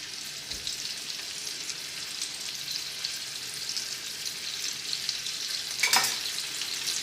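Thin chicken pieces for chicken marsala sizzle in a pan with a steady, bright hiss and one sharper crackling burst near the end, close up and without speech.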